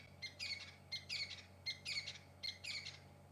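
Go-away birds call during a safari drive: four short pairs of nasal squawking notes spaced evenly under a low steady vehicle hum, fairly faint and distant, with no voices.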